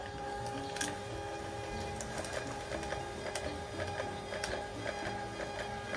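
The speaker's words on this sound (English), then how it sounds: "I might have to hold it for the printer really quick" A printer runs steadily in a home art studio, a continuous mechanical whir and hum with repeated clicks and ticks from the print head, close by and fairly quiet, with no talking.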